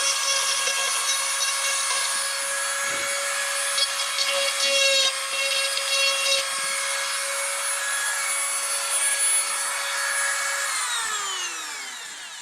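A power carving tool, likely a chainsaw-type carver, whines steadily and close while shaping a wooden cardinal, with a constant high tone throughout and brief bites into the wood, then the motor winds down at the end.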